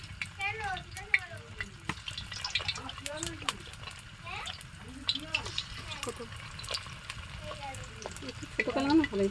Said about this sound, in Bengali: এখন পকোড়াগুলো ভেজে